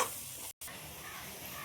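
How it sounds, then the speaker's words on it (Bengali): Spice paste frying in a pan while being stirred, a soft continuous sizzle with light scraping, broken by a brief silent gap, faint and close. "মশলাটা দিয়ে কষানোর জন্য খুব ভালোভাবে নেড়ে দেবো।"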